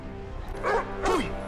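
A Belgian Malinois barks twice in quick succession during a TV drama scene, each bark loud, sharp and close.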